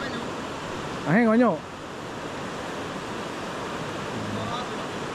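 Steady broadband rush of a three-tiered jungle waterfall, continuous and fairly close, with a brief spoken word briefly rising over it.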